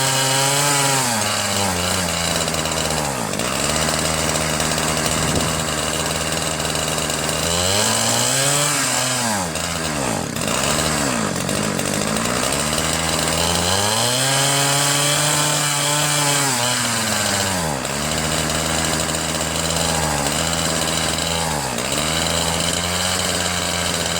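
Ryobi 31cc 410R gas rototiller cultivator engine running wide open, a loud continuous two-stroke drone that surges and dips in pitch several times, with no talking.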